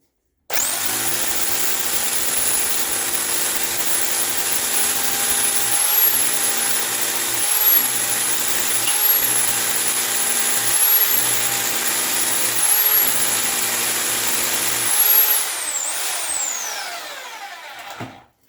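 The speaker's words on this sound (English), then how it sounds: "the position is drilling and hammering" A Bormann BPH4500 Pro SDS Plus hammer drill runs in drill-and-hammer mode, a loud steady motor whine with rapid hammering, briefly dipping in short pauses several times before winding down at the end.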